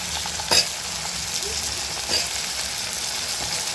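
Potato and brinjal pieces sautéing in a pan for a lunch dish, with a steady sizzle of frying and two sharp scrapes of a spoon stirring the vegetables, close and fairly loud, no talking.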